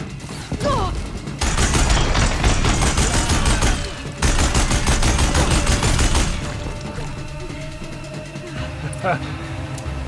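Minigun fire in the video game Horizon Zero Dawn Remastered, loud sustained bursts of rapid automatic shots that stop and restart, with mechanical clatter between bursts and a voice talking over it.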